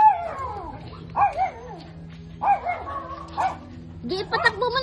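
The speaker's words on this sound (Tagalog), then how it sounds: "Uy, may aso dyan sa ano ha." A dog yips and barks in short bursts, with whimpering tones, close by while people talk over it throughout.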